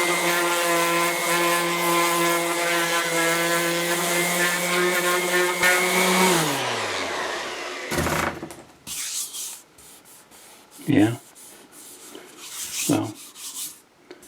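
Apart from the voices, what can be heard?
orbital sander with 80 grit sanding Mercedes wheel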